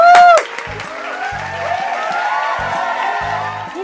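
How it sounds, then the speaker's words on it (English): A crowd claps and cheers for a few seconds, steady broadband clapping under light background music. "Let's all give them a round of applause."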